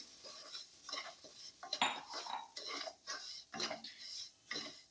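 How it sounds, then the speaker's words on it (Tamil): Semolina being stirred and dry-roasted in a pan for carrot kesari, heard as close, busy scraping and clinking of a spoon against metal with a soft gritty rustle and only faint sizzle, no voices. "ரவை சேர்த்து நல்லா ஃப்ரை பண்ணிக்கலாம்"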